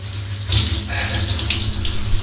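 A warm shower running into a tub or basin, a close, steady rush of spraying water with slight surges in the splash, continuous throughout with no talk.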